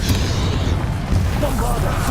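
Confringo spell blast in Hogwarts Legacy, a loud, deep booming explosion with rumbling low-end bursts, close and heavy throughout the short stretch.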